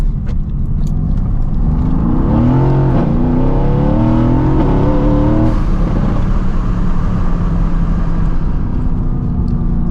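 A loud sports car with a custom exhaust revs hard and climbs in pitch as it accelerates, its rough exhaust roar holding steady throughout.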